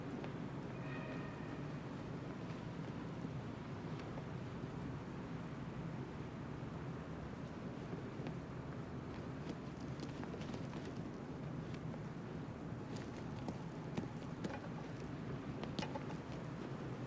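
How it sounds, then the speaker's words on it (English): Steady rain falls in the video game Batman Arkham Knight, a soft, constant hiss of rainfall with faint scattered patter and splashes, uniform throughout and with no voices. "What's with all the rain?"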